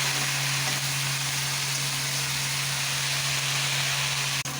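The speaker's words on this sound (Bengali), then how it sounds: "আমার শাক ভাজা লাল লাল করে ভেজে নিয়েছি শাকটাকে" Bottle gourd leaves frying hard in a pan over a strong gas flame, giving a steady, loud, close sizzle with a constant background hum and no talk.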